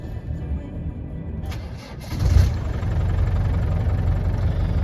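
A 1996 Land Rover Defender 110 300Tdi diesel cranks over and catches about halfway through, then settles into a steady, loud, rumbling idle, close by.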